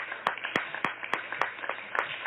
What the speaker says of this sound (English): make sure you're sending them those rounds of applause and that stamp of approval